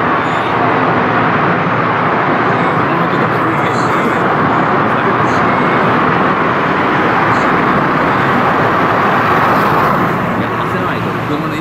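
Car traffic rumbling on a road near Kotsubo Tunnel at night, a loud, continuous broadband roar of engines and tires that stays steady throughout, with voices talking underneath.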